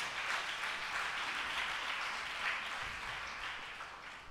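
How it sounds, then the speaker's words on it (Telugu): Congregation at a church Holy Communion service clapping steadily for the Lord, a dense continuous patter of many hands at moderate loudness that fades slightly toward the end. "చప్పట్ల కొట్టు ప్రభుకి"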